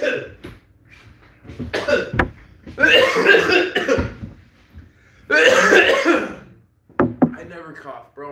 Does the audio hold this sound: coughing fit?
yes